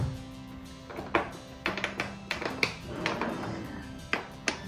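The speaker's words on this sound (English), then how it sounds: "Next drawer, Mila." Dresser drawers pulled open and rummaged through while clothes are sorted, with several short sharp knocks and wooden taps scattered over a few seconds, fairly close, under a low background hum.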